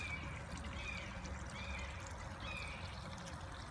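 Steady flowing water from a pond pump runs continuously, a soft trickling stream with faint high chirps over it, moderately distant and even throughout.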